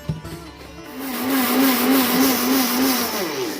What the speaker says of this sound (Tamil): இப்போ இதை வந்து நம்ம ஒரு மிக்சி ஜாரில் சேர்த்துக்குவோம் ஒரு சிட்டி அளவுக்கு ஏலக்காய் தூள் சேர்த்துக்குவோம் பவுட்ராக்கிக்குவோம்